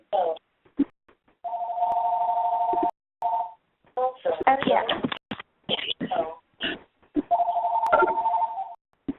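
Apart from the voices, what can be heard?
home telephone ringing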